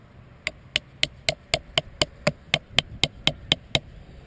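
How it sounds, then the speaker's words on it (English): Knife spine pounding something flat, struck in a steady run of about fourteen sharp, evenly spaced knocks, close and fairly loud with no talking. "If I pound this down enough, it'll flatten out."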